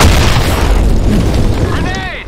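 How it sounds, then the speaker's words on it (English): Grenade explosion in a video game: one loud, close boom that fills the whole moment with heavy low rumble and crackling debris, fading away with a faint ringing tail. "Grenade."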